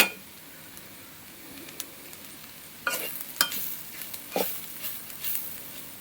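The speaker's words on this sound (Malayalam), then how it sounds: "നന്നായിട്ട് അരപ്പ് കരിഞ്ഞു പോകരുത്, നന്നായിട്ട് ഇളക്കി കൊടുക്കുക" Masala paste for a Kerala beef curry being stirred in a pan makes a quiet background sizzle, then a run of close scraping strokes and light clinks that grows busier in the second half.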